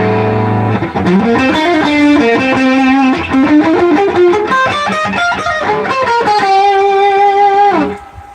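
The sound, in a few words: electric guitar with distortion effect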